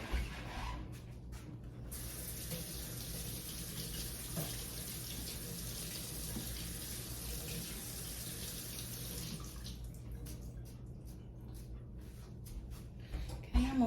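Tap water runs steadily over potatoes being rinsed in a kitchen sink, a broad continuous hiss with faint handling clatter, and brief talk at the end.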